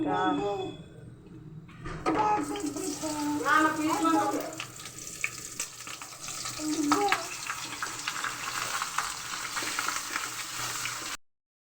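Garam masala, cardamom, raisins and nuts frying in hot oil in a kadai, a steady sizzle that swells after the first couple of seconds and runs on under a voice.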